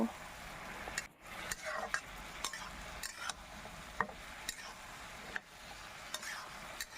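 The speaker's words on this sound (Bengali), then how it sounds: "এবার খুব ভালোভাবে মশলার সাথে ডাটা আলু কষিয়ে নেব" Drumstick stems and potatoes being sautéed with turmeric and spices in a pan: a low sizzle under repeated scraping stirs and clinks of a spatula against the pan, irregular and close.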